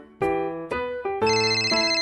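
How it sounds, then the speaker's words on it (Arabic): A telephone at a children's police station rings in a cartoon, a bright electronic ringtone of several close, regular tonal bursts, loud and alone. "الهاتف يرن."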